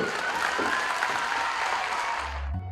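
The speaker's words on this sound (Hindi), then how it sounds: "आप लोगों के लिए जोरदार तालियां बच्चों।" Loud crowd applause for schoolchildren at a school enrolment campaign event in India, continuous close clapping that fills the clip and cuts off abruptly near the end.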